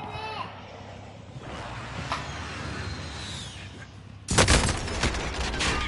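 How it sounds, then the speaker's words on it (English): A friendly precision airstrike in Call of Duty Warzone hits as a sudden loud burst of layered explosions near the end, after a stretch of quieter game noise with some voice over it. "Be advised, friendly precision airstrike inbound."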